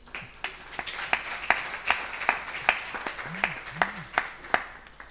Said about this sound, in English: A round of applause to the team.